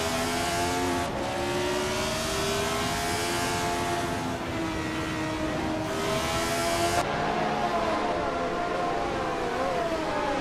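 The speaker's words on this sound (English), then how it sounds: "Nukenbocken is driving a March 761, established as a solid choice for this race" Race cars roar steadily around a racing track, including a March 761, with sustained loud engine tones that shift in pitch as cars pass and accelerate, one sharp change near the end.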